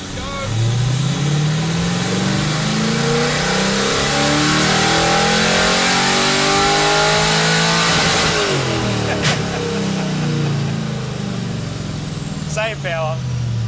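Vehicle engine revving at full throttle in a video game, a loud, sustained rising drone that climbs in pitch through repeated gear changes, with voices talking over it.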